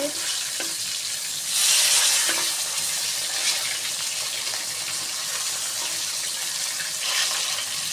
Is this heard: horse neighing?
no